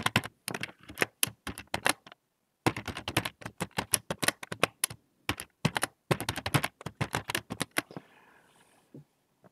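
Computer keyboard typing a username and password, close and crisp bursts of rapid key clicks with short pauses between words, ending in a quiet tail.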